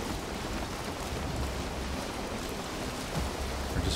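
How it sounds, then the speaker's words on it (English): Steady rain in the video game Valheim, an even hiss of falling water that stays constant and moderately loud with no talking. "Or just rain?"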